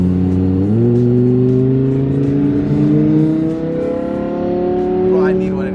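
Lamborghini and GTR sports cars rev their engines, a strong, steady drone that climbs gradually in pitch with several overlapping engine notes, close and loud throughout.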